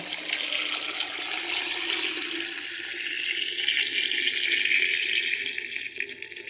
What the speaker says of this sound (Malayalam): അത് അടിയിൽ കണ്ട തെളിഞ്ഞ വെള്ളം മാത്രമാണ് ഒഴിക്കുന്നത്